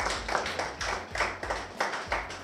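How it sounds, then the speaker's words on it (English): An audience applauds Francine at a business event: a small, fairly quiet group claps in a steady, even rhythm of about four claps per second for a couple of seconds. "Let us give her a round of applause."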